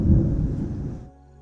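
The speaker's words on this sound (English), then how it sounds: "Sorry about the thunder." Thunder from a storm rolls as a loud, deep rumble for about a second, then cuts off abruptly, leaving a faint low background.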